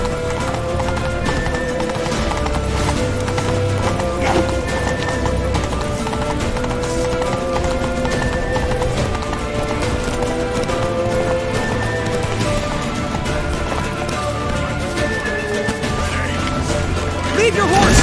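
Galloping horse hooves in a video game, rhythmic clip-clop beats running steadily under a dense music score, with brief shouted voices and crashes mixed in.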